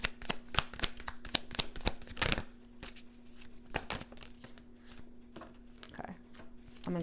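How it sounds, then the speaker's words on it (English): Tarot cards are handled and shuffled from a deck, giving a rapid run of crisp flicks and slaps that thins into scattered softer card taps, quiet and close. "Let's get 2 more cards from this deck."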